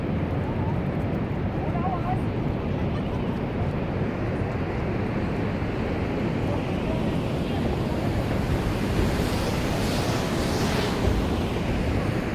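A broad, steady roar of rushing water from Niagara Falls fills the scene, mixed with wind buffeting the microphone, constant and loud throughout.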